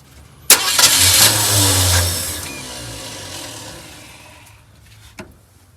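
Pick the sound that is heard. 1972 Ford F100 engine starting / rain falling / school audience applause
1972 Ford F100 engine starting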